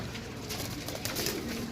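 Pigeons, including a slate-grey bird, coo softly nearby in a loft, a low murmuring warble that runs steadily through the short moment with no talking.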